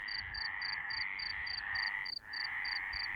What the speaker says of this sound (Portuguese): As várias espécies de rãs e sapos que aqui ocorrem estão a comunicar